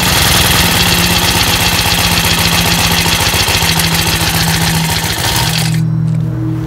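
A Honda Harmony FG-100 tiller engine runs loud and close with a steady, buzzing putter. Its tines are not turning because of a faulty clutch or gearbox. The sound stays constant and then drops away abruptly near the end.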